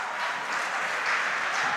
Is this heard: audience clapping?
yes